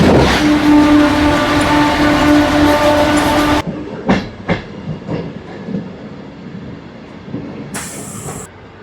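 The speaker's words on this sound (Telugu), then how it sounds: "సికింద్రాబాద్ నుంచి విశాఖపట్నం వరకు వెళ్ళే ఏసీ సూపర్ ఫాస్ట్ ఎక్స్ప్రెస్." The Secunderabad–Visakhapatnam AC Superfast Express rushes past close by with a loud, droning roar for about three and a half seconds. It cuts off abruptly, leaving scattered clanks, a faint hiss and a brief high squeal.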